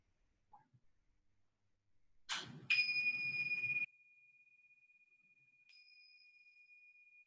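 A bell or chime rung to open a yoga and qi gong session, struck once with a bright attack and a clear sustained ring, then a fainter second strike that lingers quietly in a near-silent room.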